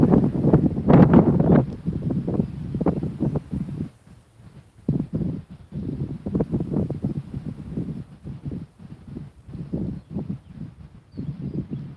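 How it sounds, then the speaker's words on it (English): Wind buffets a microphone outdoors on a fishing trip, making a gusty, low rumbling roar that swells and fades in uneven bursts, with a brief lull partway through. "Still got hopes that the wind will lay down here shortly."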